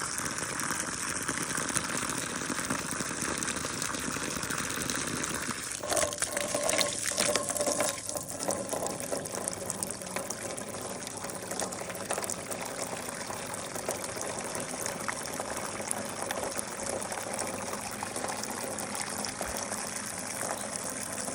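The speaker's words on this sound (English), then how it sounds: "So now we're backflushing the other filter." Steady rushing and gushing water as a pool filter is backflushed, continuous and fairly close, with a slight change in flow partway through.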